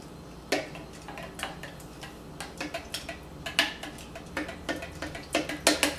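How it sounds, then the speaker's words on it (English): A knife stirs a juice of pink grapefruit, tangerine, lemon, kiwi and ginger, its blade ticking and clinking repeatedly against the glass in close, light, irregular taps with no voices. "I'll use my knife to stir."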